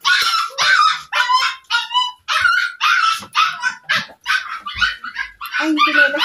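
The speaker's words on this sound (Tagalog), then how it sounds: "Yung aso namin, ang ingay-ingay." A dog barks and yelps repeatedly up close, loud sharp bursts with short pauses between them, some whiny and high-pitched.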